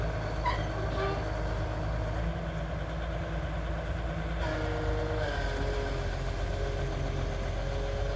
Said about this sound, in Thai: แต่แมคโครเร่งเบาๆนะครับปกติจะเร่งแรงนิดนะ